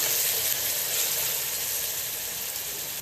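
Ginger garlic paste frying in a pan for chinta chiguru mutton, a steady dense sizzle that holds loud and close without break.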